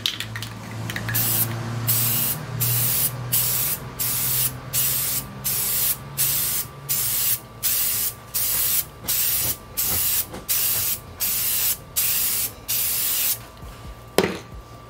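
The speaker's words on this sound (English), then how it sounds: "Now we're gonna put on our coat of Rust-Oleum Gloss Black." An aerosol can of Rust-Oleum Gloss Black sprays a painted canvas in a long run of short, evenly spaced hissing bursts, loud and close, with no talk.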